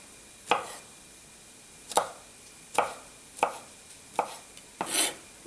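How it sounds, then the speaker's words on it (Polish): Five or six separate knife chops land on a board at an unhurried, uneven pace, crisp and close, as mushroom stems are cut off and caps finely chopped. "Najpierw musimy odkroić nóżkę i potem pokroić kapelusz na drobno."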